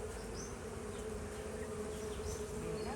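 Honey bees hum in a dense, continuous drone at a hive during rainy-season feeding with fresh honey, close and steady throughout, with no voices.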